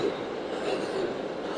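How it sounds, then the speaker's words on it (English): A New York subway train roars steadily at 33rd Street, a loud, close rumble of wheels on rails with a faint high squeal riding over it. "Very loud subway."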